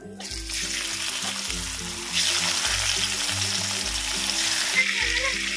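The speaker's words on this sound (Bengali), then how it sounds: "পরের মাছগুলোকে একইভাবেই ভেজে নেব।" A batch of tangra fish fries in hot oil, giving a continuous bright sizzle through the whole stretch that swells slightly partway in, with soft music underneath.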